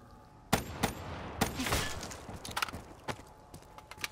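Wall-bought guns firing in a Call of Duty Zombies match, a string of sharp irregular shots with one burst of rapid fire, close and punchy over quiet game background.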